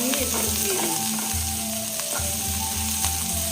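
Cashews and raisins fry in a pan for a healthy broken-wheat (dalia) pilaf breakfast, giving a steady close sizzle with a rhythmic low clatter of stirring throughout, no talking.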